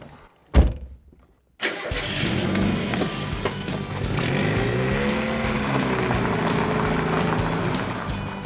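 A 1993 Mazda MX-5 with a 1.6-litre engine gives a short sharp burst, falls quiet, then fires up and settles into a loud, steady running note that rises and falls as it pulls away.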